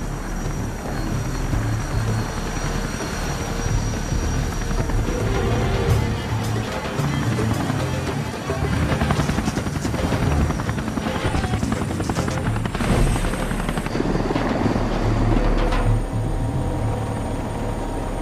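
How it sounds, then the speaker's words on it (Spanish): A loud, close helicopter in an action film, its rotor thumping and engine roaring steadily throughout, with the pitch shifting slightly as it moves. "¡Comandante, su helicóptero!"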